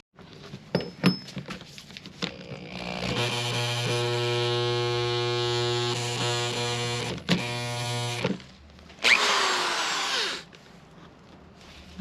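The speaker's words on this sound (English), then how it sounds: "So I've brought my actual drill out, the one that is powered and not my hand screwdriver." A powered electric drill driving screws during an old RV overhaul: a loud, steady motor whine running for several seconds, briefly interrupted, then a second shorter burst, with clicks and handling noise before it.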